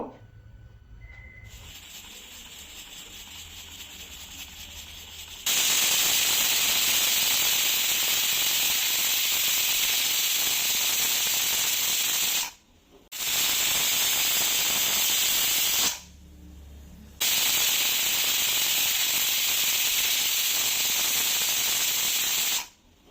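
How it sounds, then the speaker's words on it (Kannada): A pressure cooker holding liver and green gram vents on a slow flame, releasing loud sustained whistling steam hisses in three long blasts separated by short pauses, after a quieter opening. "ಸ್ಲೋ ಫ್ಲೇಮಲ್ಲಿ ಒಂದು ಮೂರು ಕೂಗು ವಿಸಿಲ್ ಬರೋವರೆಗೂ ಇದನ್ನು ಕೂಗಿಸ್ಕೋಬೇಕು"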